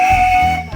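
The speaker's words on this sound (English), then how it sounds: "And with that whistle, it looks like we're now departing" A single steady high train whistle tone sounds loudly at departure in Cleethorpes, with low rumbling machinery underneath, then cuts off near the end.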